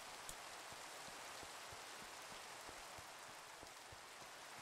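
Rain falls in Minecraft as a steady, close hiss of drops on surfaces with faint soft ticks throughout, continuous and alone without talk.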